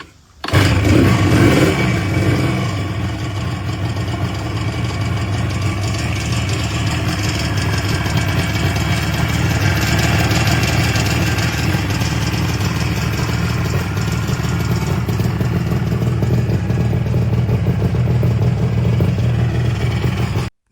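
A Yamaha RD 350 two-stroke classic motorcycle engine idles steadily for about twenty seconds, a continuous loud, buzzy, ring-ding rumble heard up close with no talking.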